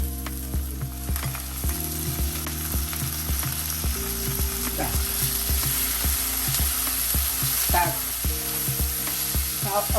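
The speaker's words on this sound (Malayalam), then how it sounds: "ഉള്ളിൻ്റെ നിറം മാറിക്കഴിഞ്ഞ ഉടനെ തന്നെ ഞാൻ ഇഞ്ചിയും വെളുത്തുള്ളിയും ചേർത്തിട്ടു" Onion with ginger and garlic sizzles in a pan in a steady, loud fry, with a repeating mechanical ratcheting clicking throughout.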